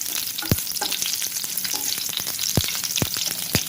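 Long-sliced garlic cloves sizzling in hot oil in a pan, a steady close frying hiss broken by a few sharp crackles and pops, with no talking.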